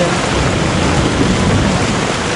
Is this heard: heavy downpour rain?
yes